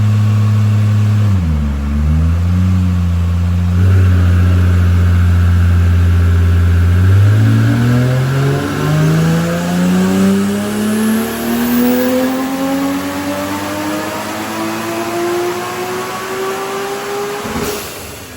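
A 1000HP single turbo BMW E90 335 with a DCT gearbox strains under load on a dyno. The engine drones loudly, dips, then climbs steadily in pitch into a long rising wail, with turbo whistle above it. No voices.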